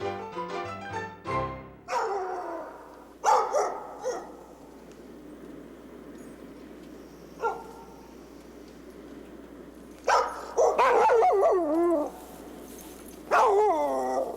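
Alaskan Husky sled dogs bark, yip and whimper in scattered bursts, some close and loud, others fainter, with quiet gaps between outbreaks and no talk.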